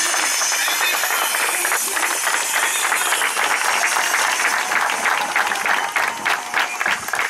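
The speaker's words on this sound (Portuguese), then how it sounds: "Palmas para esse guerreiro!" A crowd at a military police retirement farewell applauds loudly, dense rattling clapping with scattered sharper claps, continuing for several seconds with some voices mixed in.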